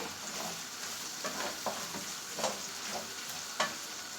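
Rice toasting in butter in a pot, a soft continuous sizzle broken by scraping stirs at irregular intervals, quiet and close with no voices.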